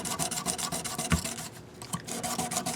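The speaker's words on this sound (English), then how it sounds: "maybe it's 800 grit sandpaper. And I'm just going to very lightly hit these frets." Fine-grit sandpaper, around 800 to 1200 grit, rubs lightly back and forth over the frets of a Yamaha guitar in soft, repeated rasping strokes close to the listener.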